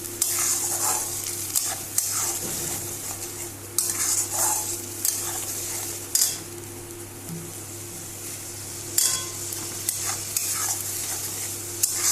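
A spoon stirs and scrapes a pan as masala for soybean malai curry fries, with a steady sizzle under repeated metallic clinks and scrapes close by and no talk.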